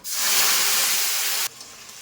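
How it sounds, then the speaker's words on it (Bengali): A tomato, ginger and chili paste hits hot oil with a loud, close, steady sizzling hiss that cuts off abruptly after about a second and a half, leaving a quieter hiss. "এইবার এই তেলের মধ্যে দিয়ে দেব মিক্সিং বোলে আমি করেছিলাম টমেটো, আদা, লঙ্কার পেস্ট"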